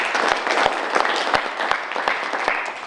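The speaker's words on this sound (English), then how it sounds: "You all deserve a round of applause." An audience at a university law clinic's inter-regional moot court competition breaks into steady, close applause. Many hands clap together in a dense, even patter that holds throughout.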